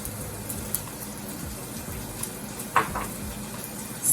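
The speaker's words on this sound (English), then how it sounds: "Stir it up again." A spoon stirs penne pasta in a pot, producing faint, sparse clinks and scrapes against the metal, with one sharper knock near the end over a soft, steady background.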